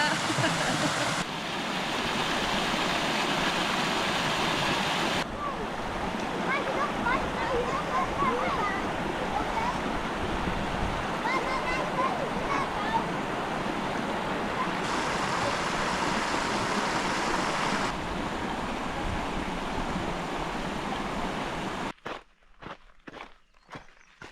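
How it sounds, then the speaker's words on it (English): A waterfall on a trip around Australia rushes in a steady, loud broadband roar that runs almost without a break and cuts off near the end, while footsteps and voices sit faintly beneath it. "No one would have heard anything over the waterfall anyway"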